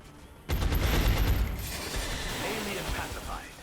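Gunfire from the turn-based strategy game XCOM Enemy Within as a heavy soldier takes a shot: a loud burst of shots bursting in at once, followed by a sustained rumbling, crackling tail.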